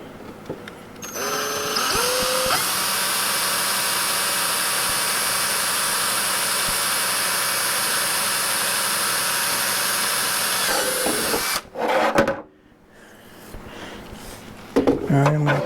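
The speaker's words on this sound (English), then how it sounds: "let's drill one here and see how this goes" A power drill bores a hole in a Grizzly G0815 dust hood, spinning up with a rising whine, then holding a loud steady high-pitched drone for about ten seconds before stopping, followed by brief clatter.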